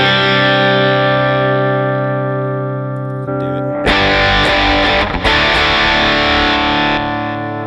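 An electric guitar played through an HTS rig amp with dirt tones: a sustained distorted chord rings out, then a burst of heavily overdriven strummed chords with effects and reverb, loud and alone.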